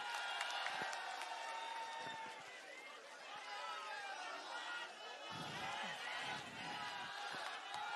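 A large crowd at a political rally cheers and applauds continuously, a dense wash of claps, shouts and chatter filling the open-air space, steady and loud throughout.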